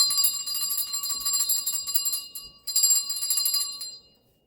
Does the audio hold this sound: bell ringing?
yes